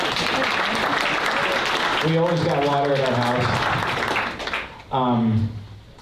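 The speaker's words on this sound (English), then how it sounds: "Give them a round of applause because our water never goes out." A crowd at a winter community preparedness event gives a round of applause, loud and continuous at first, then carrying on under a voice before fading out.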